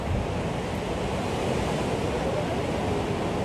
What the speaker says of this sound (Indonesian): menikmati deburan ombak di Gua Langse ini